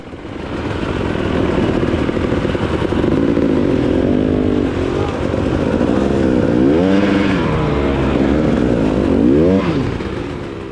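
Dirt bikes climb a hill during a race, their engines rising and falling loudly as they rev through the gears, close and continuous, several machines overlapping.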